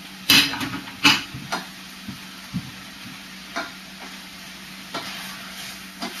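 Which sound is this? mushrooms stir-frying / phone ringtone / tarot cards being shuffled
mushrooms stir-frying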